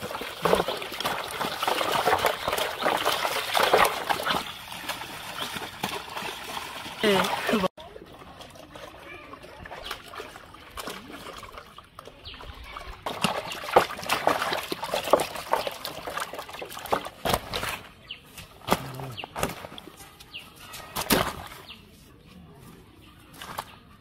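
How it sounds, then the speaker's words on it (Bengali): Water is poured over cut chicken pieces to wash them in a village kitchen, trickling and splashing in uneven bursts while people talk and birds call nearby. "পানি দিয়ে এখন ধোবো পানি দিয়ে এখন ধোইব পানি এখন ঢেলে দিচ্ছি"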